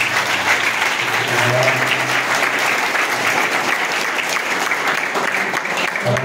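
Loud, sustained applause from an audience at a foundation-stone ceremony for a new multipurpose building honours a donor, an even roar of many hands with a faint voice briefly showing through.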